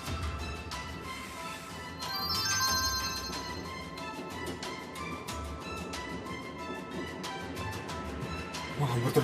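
A mobile phone rings with a message notification tone during a railway drama series, a repeating melodic ring heard under background music and voices throughout.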